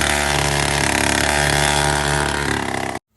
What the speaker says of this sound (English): A sound check of the new exhaust for good measure.